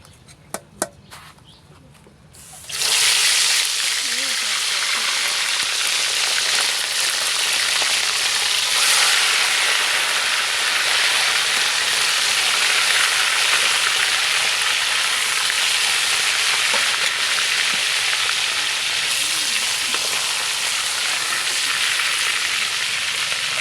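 Fish frying in hot oil gives off a loud, continuous close-up sizzle that rises sharply after a few quiet seconds with faint taps and then holds steady for the rest.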